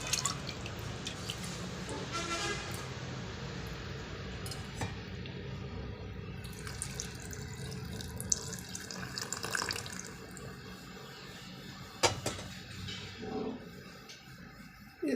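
Water trickles and drips steadily into a ragi flour and vegetable mixture in a kitchen, with scattered splashes and small clinks from the bowl over about fifteen seconds.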